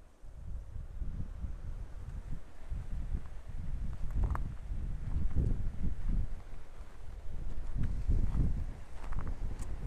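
Wind on an exposed clifftop before hail and rain, with gusty, rumbling buffets swelling and easing against the microphone over about ten seconds.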